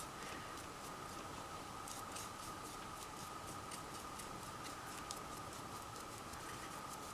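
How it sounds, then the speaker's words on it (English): Rain patters steadily on a steel roof, a faint, continuous hiss with soft irregular taps heard indoors, with no talking. "If you listen really quiet, you hear the rain on my steel roof."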